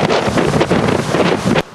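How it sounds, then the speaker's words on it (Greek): Strong gale-force north wind at the old harbour of Chania, Crete, roaring loud and continuous across the microphone with waves surging against the harbour breakwater, cutting off abruptly near the end. "Οι θυελλώδεις βόρειοι άνεμοι που έπνεαν για δεύτερη μέρα σήμερα στα Χανιά"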